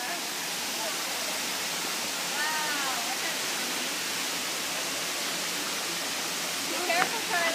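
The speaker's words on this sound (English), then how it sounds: "Look at the waterfall, my God." A waterfall near Yelapa pours with a constant, even hiss of rushing water, while birds chirp faintly now and then over the steady roar.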